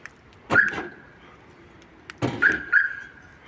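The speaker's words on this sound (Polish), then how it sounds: "Ten alarm tak robi" A Daewoo Matiz car alarm gives a short electronic chirp as the central locking works, then after a pause two more quick chirps, each with a faint click, close by.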